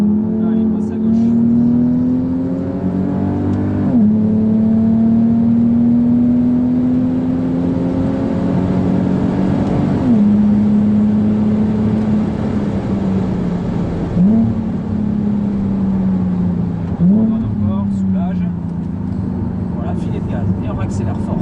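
A Nissan 370Z roadster engine accelerates hard on the Nogaro race circuit, its loud, steady drone climbing in pitch through several gear changes, with a voice talking over it throughout.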